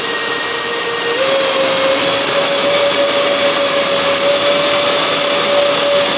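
An FMS A-10 Thunderbolt II V2 RC jet with twin 70mm ducted fans, throttled up to half: a loud, steady close-up whine that rises in pitch after a second and then holds. No one speaks.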